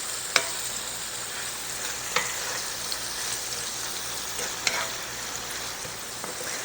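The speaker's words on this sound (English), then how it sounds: "Give it a quick stir and let it cook." Sliced steak for a Philly cheesesteak sizzles steadily in a skillet, with a few sharp taps and scrapes as it is stirred, close and continuous with no talking.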